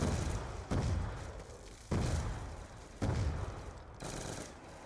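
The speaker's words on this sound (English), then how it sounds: "I'm just tap firing." Tap-fired gunshots in a round-based video game come as a few separate loud bursts about a second apart, each with a sharp attack and a decaying boom tail, heard fairly near and without speech.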